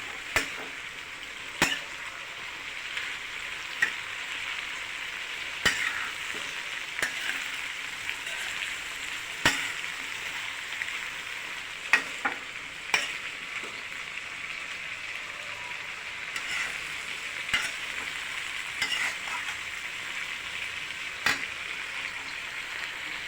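Bitter gourd fries in a pan with a steady hiss of sizzling oil, punctuated by sharp spoon clicks and scrapes against the pan at irregular intervals over a long stretch.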